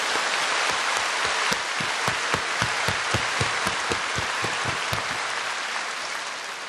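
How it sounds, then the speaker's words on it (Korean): A church congregation claps together during a sermon, rhythmic unison clapping in a steady beat over a broad wash of scattered applause, sustained across the whole span and slowly fading. "우리 주님께 감사 박수를 드리십시오"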